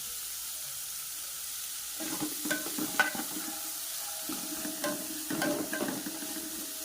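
Dried fish sizzles softly in a pan while a spoon stirs it, with quiet frying hiss broken by a few louder scraping strokes and clinks against the pan.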